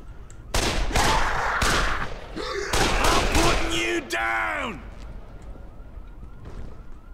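Rapid bursts of gunfire from the Dead Island video game crack loudly in clusters, mixed with wailing siren-like tones and a brief chirping sweep, then settle into quieter background ambience.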